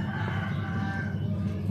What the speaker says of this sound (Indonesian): Ayamnya berkokok.